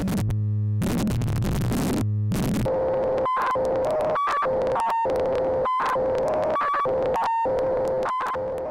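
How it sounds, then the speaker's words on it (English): A Model 1011 discrete VCO synthesizer tone swept hard by linear frequency modulation, first a harsh, noisy burst, then a buzzy pitched drone broken by rhythmic clicks and gaps. "almost get into just white noise territory just using the linear FM"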